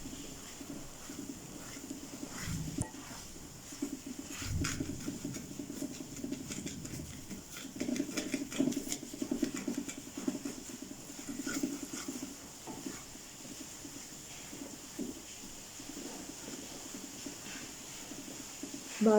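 Rain patters softly and steadily outside while semolina halwa is being cooked, forming a continuous faint hiss with scattered light drips and no speech.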